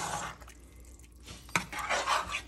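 Chili with tomatoes is stirred in a pan, the spoon scraping along the bottom in uneven rasping strokes that swell and fade, with a sharp clink partway through, close and fairly loud.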